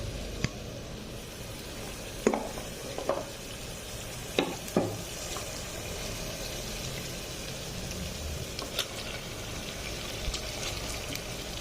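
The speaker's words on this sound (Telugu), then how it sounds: "ఇప్పుడు మనం ఇందులో మటన్ వేసుకోవాలి." Mutton pieces going into onions fried in oil for a goat head curry, giving a steady close sizzle with a few sharp clatters and stirring knocks scattered throughout.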